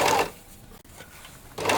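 An overlocker serger runs its knives and needles along a fabric edge in two short, loud, fast mechanical bursts close by, separated by a quiet pause.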